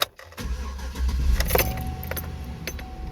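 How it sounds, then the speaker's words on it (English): A car engine being turned back on after the gas pedal was pumped three times, a quick key jangle and click, then a low rumbling crank that settles into a steady close idle. "Okay, now we're going to turn the engine back on."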